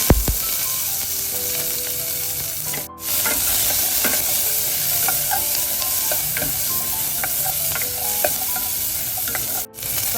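Mustard seeds, curry leaves, onion and green chili fry in oil for a Jaffna-style cassava curry, with a constant loud sizzle and scattered spoon scrapes and clicks, broken by two brief dropouts; nobody talks.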